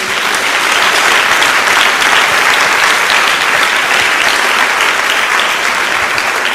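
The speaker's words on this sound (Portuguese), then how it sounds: "Dê uma salva de palmas a Jesus." Loud, sustained applause from a church congregation, dense clapping that holds steady throughout without pause.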